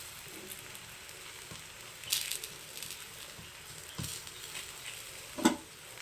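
Thalipeeth roasting in a little oil on a pan, a soft steady sizzle with a few louder crackles and the clack of a spatula or utensil near the end, with no voices.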